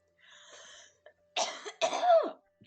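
A cat gives a series of harsh, hacking coughs and retching gags in short bursts, trying to bring up a hairball, fairly close, with brief pauses between them and no talking.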